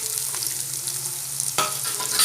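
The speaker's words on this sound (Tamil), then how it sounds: "இப்போ பச்சை மிளகா நல்லா வதங்கட்டும்." Green chilies and finely chopped onion sautéing in oil in a pan, a continuous close sizzle broken by a couple of stirring scrapes.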